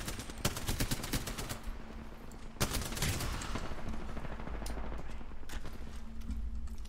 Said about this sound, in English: watch me get shot up